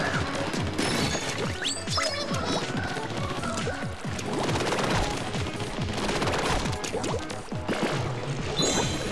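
Bombs burst in rapid succession during the Octobot King boss fight in Splatoon on the Nintendo Wii U, a dense, loud barrage of blasts and crashes over game music, with no talking.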